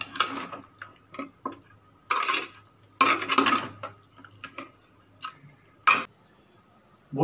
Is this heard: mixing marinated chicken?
yes